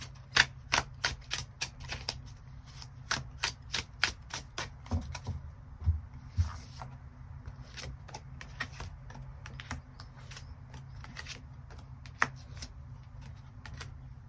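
Tarot cards are shuffled and drawn in a quiet room, producing a string of crisp, close snapping and flicking clicks, dense at first and then sparser, with no voices.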